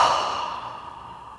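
A deep, slow exhale during a pranayama breathing practice, a close breathy sigh through the mouth that fades steadily over about a second and a half, with no other sound.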